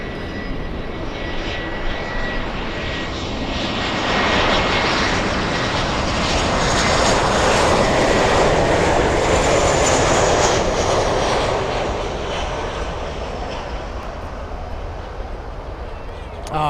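An airplane arriving from Anchorage lands at Miami International Airport, a loud sustained jet roar that swells to a peak midway and slowly fades, with a voice speaking faintly underneath.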